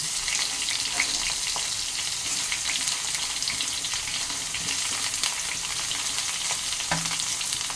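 Eggplant and pumpkin pieces frying in a pan, a steady broad sizzle throughout with occasional light scrapes and clinks of a spatula stirring them, close and even in level.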